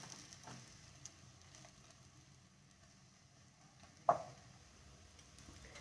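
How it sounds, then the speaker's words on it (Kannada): Banana pieces frying in ghee give off a faint, steady sizzle throughout, with a single sharp clink partway through and no speech. "ಚೆನ್ನಾಗಿದು ತುಪ್ಪದಲ್ಲಿ ಫ್ರೈ ಆಗಬೇಕು ಬನಾನ ಪೀಸು."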